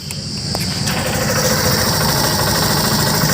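A Hero Super Splendor Xtec 2.0 motorcycle starts with its self-start button and settles into a quiet, steady idle. The engine hum is close, smooth and continuous, with no talking.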